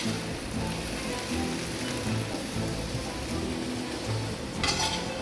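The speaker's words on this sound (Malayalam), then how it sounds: "ये पैन ऑन कर दिया है. इसमें अभी ये वेजिटेबल डाल रहे हैं." Vegetables sizzle and crackle steadily in a hot pan for a fish dish, a dense close hiss like rain with a brief brighter burst near the end.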